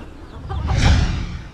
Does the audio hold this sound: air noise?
no